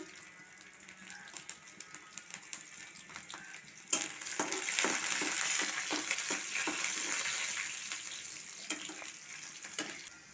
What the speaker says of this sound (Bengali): রসুনটাও আমি লাল লাল করে ভেজে নিলাম